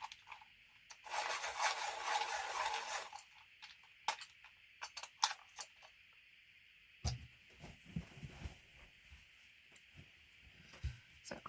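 A fuchsia colouring pencil is turned in a small sharpener, giving a steady dry rasping scrape for a couple of seconds, then scattered light taps and clicks as it is handled, fairly quiet and without talk.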